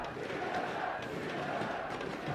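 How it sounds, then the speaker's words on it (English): A crowd at a League of Legends esports match chants and roars for Team SoloMid, a dense, steady wash of many voices with rhythmic swells, heard at a distance throughout. "Crowd chanting, pumping up SoloMid."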